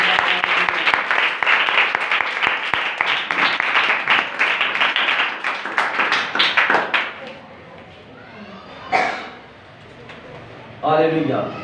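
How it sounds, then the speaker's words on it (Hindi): Church congregation at a Pakistani Pentecostal tabernacle assembly in Lahore breaks into loud, dense applause that fades after about seven seconds, followed by short bursts of speech from the pastor. "जोरदार तालियां खुदावन की।"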